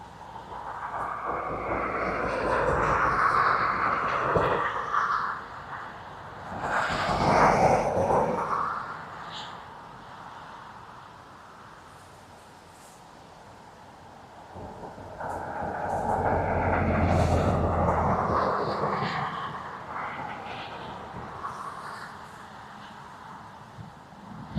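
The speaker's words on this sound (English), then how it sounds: "ATR from Edinburgh" An ATR turboprop airliner in from Edinburgh passes at windy Dublin Airport, its engine roar swelling and fading twice at a distance amid gusting wind, with no talk.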